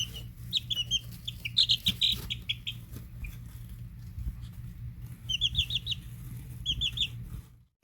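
Chickens cluck and call in bursts of short, bright notes, with quiet pauses between them. The birds are close, and a steady low hum sits underneath. The sound cuts off near the end.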